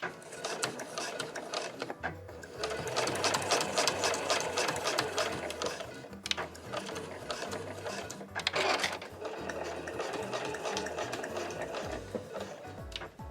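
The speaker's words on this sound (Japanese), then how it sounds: "針を刺したら返し縫いから縫っていきます" A home sewing machine stitches a nubi-quilted tote bag, backstitching at the start: a steady, busy mechanical whirr of needle and gears running in long bursts with a brief pause midway.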